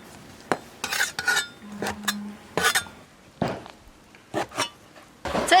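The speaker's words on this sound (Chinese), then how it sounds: "蘑菇切片儿" A knife slices wild mushrooms on a cutting board: irregular bursts of sharp chopping and scraping strokes, close and fairly loud, with short pauses between them and no talking.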